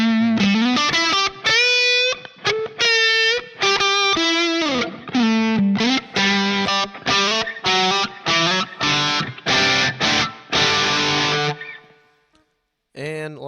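Electric guitar through a tube drive overdrive into a Line 6 POD HD500 Fender Bassman model, playing sustained chords and riffs with warm, crunchy saturation, loud and up close, stopping abruptly near the end.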